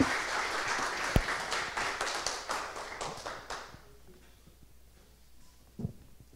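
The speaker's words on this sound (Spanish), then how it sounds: "Los recibimos con un fuerte aplauso a Santiago Vidarte, Nahuel Menéndez, Michael Núñez y Gonzalo Caballero." Audience applause welcoming presenters at a demo day, steady clapping from a crowd for a few seconds that then fades out, leaving quiet room tone with a couple of faint knocks.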